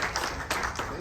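Brief applause for a speaker taking the stage at a leadership talk, a few close claps standing out over a soft crowd, short and moderate in level.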